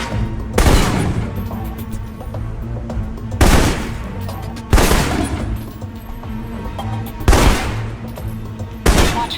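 Assault rifle bursts ring out in the Alpha Protocol video game, five loud sharp volleys of gunfire at spaced intervals with faint ambient noise in between.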